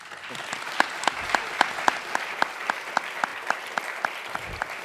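Audience at a college Black Lives Matter event clapping in a slow, regular rhythm, about three claps per second, moderately loud over a soft crowd wash.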